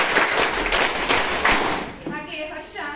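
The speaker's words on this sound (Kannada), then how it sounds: "ಇನ್ನೊಂದ್ಸರಿ ಜೋರಾದ ಚಪ್ಪಾಳೆ" Students at a mock school election clap loudly, a dense burst of close applause with rhythmic thumps that tapers off as a voice speaks over the end.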